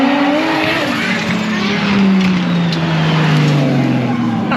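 A JDM drift car, likely the S15, slides past at Driftland in Scotland during a Dorifest drift event, with a loud, sustained engine drone and a tire squeal whose pitch falls as the car sweeps through the corner.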